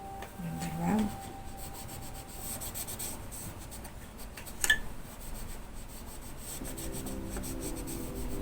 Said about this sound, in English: You need to wipe the excess oil.